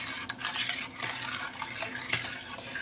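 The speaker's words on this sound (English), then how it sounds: "now we just stir it like this" Chilate made from masa, allspice and ginger is stirred in a pot, giving a soft, continuous swishing and sloshing with faint scrapes, close and quiet, with no voices.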